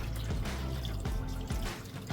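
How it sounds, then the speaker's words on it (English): Water being added to a pot of ogbono soup with meat, a soft close trickle and dripping splash, faint and brief. "so I'll be adding some water,"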